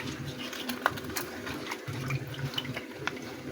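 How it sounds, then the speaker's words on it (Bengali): Noni leaves being washed under running water, a steady splash and trickle with small clinks and handling noises, close by, with a low background hum. "তো আমি এখন পাতাগুলো ধুয়ে নিব আর কি। পাতাগুলো ধুয়ে নিচ্ছি।"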